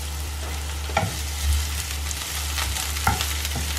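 Onion and green chilli frying in oil as they are stirred, a continuous sizzle with a few soft scraping stir strokes and low hum underneath, close and moderately loud.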